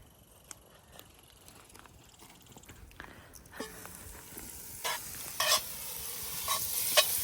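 Ground sausage fries in a Dutch oven over a campfire, a soft sizzle that builds slowly, with scattered scraping stir strokes growing louder toward the end and no talking.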